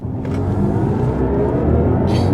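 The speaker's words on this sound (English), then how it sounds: "Now that is proper electric acceleration, quite literally." A 2024 BMW i5 M60 xDrive electric car accelerates hard, a close, loud, steady low rumble of road and drivetrain with a faint rising whine, no engine revs.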